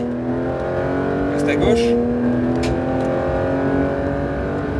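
A Porsche 911 GT3 engine pulls steadily on the Castellet circuit, a continuous loud in-car drone with a sharp pitch shift midway as it revs, while an instructor speaks over it.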